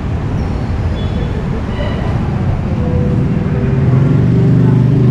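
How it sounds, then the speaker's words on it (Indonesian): A steady low rumble of a commuter train at Gondangdia station in Jakarta, rolling and droning continuously, growing slightly louder toward the end, with people talking nearby. "Oke, kita sudah di stasiun kereta Gondangdia."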